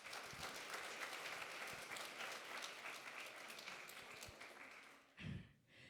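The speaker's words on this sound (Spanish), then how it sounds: "Un fuerte aplauso, por favor." Strong audience applause at a formal event in Coahuila, thick and sustained for about five seconds before stopping abruptly. A low thump and brief rustle follow at the end.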